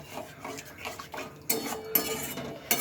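Garam masala being stirred into a mashed bean dish in a pan, soft scraping strokes followed by three sharper metallic clanks of a spoon against the pan, close and fairly quiet.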